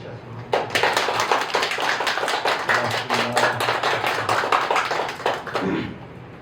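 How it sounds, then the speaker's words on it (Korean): Audience clapping at a Korean Buddhist temple's monthly first-day service, a dense round of hand claps from a gathered congregation with a faint voice or hum beneath, lasting several seconds before fading. "박수를 좀 쳐주셨으면"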